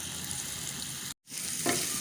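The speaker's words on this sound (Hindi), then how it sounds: "अब इसमें मीडियम साइज़ का बारीक कटा हुआ प्याज डाल देंगे और इसको भी हल्का सा फ्राई कर लेंगे।" Finely chopped medium-sized onion frying with cumin in a pan for chicken kachori filling, giving a steady close sizzle with stirring scrapes and a brief break partway through.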